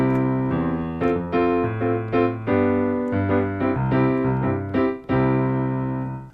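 A piano plays a calypso jazz two-feel bass line in the left hand with right-hand chords, a steady bouncing rhythm of repeated chord stabs over low notes, close and clear with no talking.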